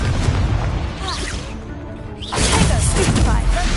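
Confringo blasting spell exploding in Hogwarts Legacy, a loud booming burst with crackling debris that drops briefly and then swells into a second blast, surrounded by dense combat noise and a voice.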